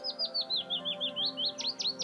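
A bird sings a quick run of repeated bright chirped notes, about a dozen in a steady rhythm, close and clear over a quiet background of faint steady tones.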